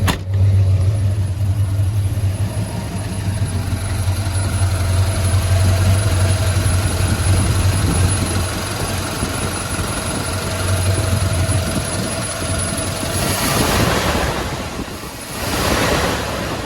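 A Chevrolet squarebody truck engine after a cold start, a loud continuous low rumble close by that swells and falls as the throttle is worked, with faint hesitation in the revs.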